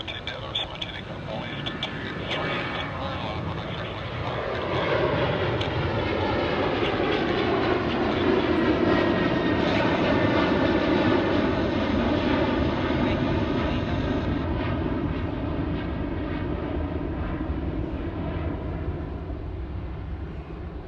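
An airliner takes off from runway 34 right at Sydney Airport, its engines building to a loud, sustained roar with rising and falling tonal whines that swell and then slowly fade, with faint voices now and then.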